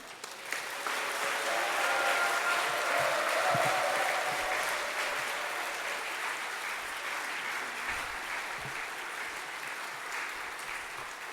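A large church congregation at a joint revival service claps in sustained, steady applause welcoming a guest pastor, swelling early and slowly tapering, filling the room for several seconds.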